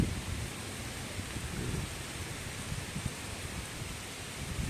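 Heavy rain pours down on a farm hut in a dense, steady wash of noise, continuous and fairly loud, with no talk.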